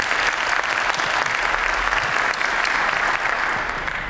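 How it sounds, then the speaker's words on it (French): A conference audience claps steadily and densely for several seconds, a continuous wash of applause filling the room. "je vous demande d'applaudir Benjamin Davy"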